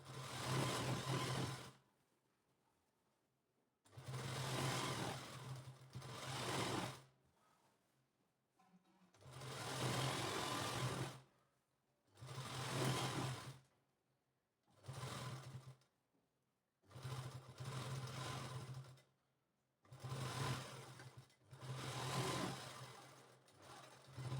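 Sewing machine stitching saree fabric into a ghagra skirt, running in bursts of about two seconds separated by short pauses, a steady close motor whir with no talking.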